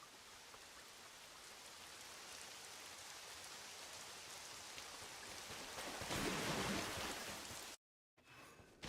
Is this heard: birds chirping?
no